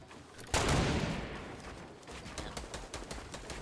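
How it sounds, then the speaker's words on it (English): Gunfire in Fortnite Battle Royale: a sharp loud burst of shots, then a rapid string of closer and fainter shots in quick rhythm against a quieter background. "Trying to shoot their build down. They're trying to shoot at me."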